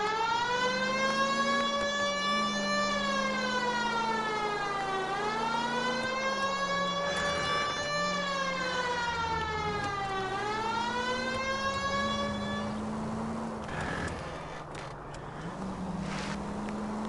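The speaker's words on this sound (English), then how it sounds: "if I put the siren on, it'll be deafening" A police car siren in the video game L.A. Noire wails loud and near in slow rising and falling sweeps, with a brief break near the end before it resumes, heard alone with no talk.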